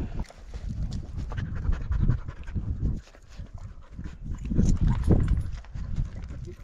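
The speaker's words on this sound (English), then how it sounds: "I can hear some dogs barking down here." Dogs pant and scuffle nearby while moving through a steep ravine during a cattle roundup, with hoof-like clatter and breathing sounds that continue steadily and swell again toward the end.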